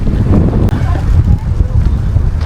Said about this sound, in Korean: 와, 여기 바람이 진짜 많이 부네요.